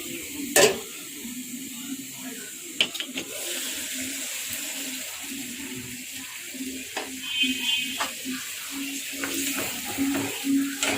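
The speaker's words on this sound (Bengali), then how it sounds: "আমি এখন মুরগির মাংস একটু গরম পানি দিয়ে দিব" Chicken meat cooking in a pot after hot water is poured in, a soft steady sizzle and bubbling with occasional clinks and knocks of a utensil, under a faint low hum.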